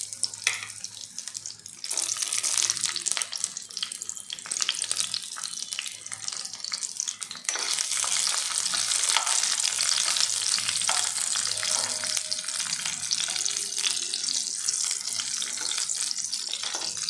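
Tomatoes fry in a pan for tomato rice, giving a dense, continuous hiss that jumps louder near the start and again midway as more goes in, heard close with no talking.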